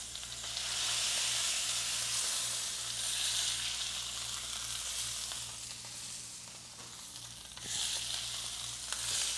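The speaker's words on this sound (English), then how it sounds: "Keep rendering the fat cap." A steak's fat cap renders in a hot pan, giving off a loud continuous sizzle and hiss that swells and eases slightly, with faint stirring and no talk.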